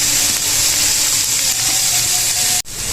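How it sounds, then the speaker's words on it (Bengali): Chopped capsicum hitting hot oil among frying vegetables gives a loud, steady broadband sizzle that holds for about two and a half seconds, then cuts off abruptly with a brief dip before the hiss resumes more quietly. "একটু কেটে রেখেছিলাম ক্যাপসিকামগুলো দিয়ে দেবো"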